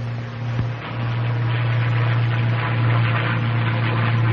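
A P-51 Mustang's supercharged piston engine climbs through roughly 20,000 feet, giving a steady, loud cockpit drone with a deep constant hum under broadband roar and no pauses.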